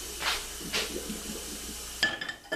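Cooked soba noodles and their hot water pour into a colander in a kitchen, a splashing, draining rush with a couple of louder gushes, then a sharp clink of metal or glass near the end.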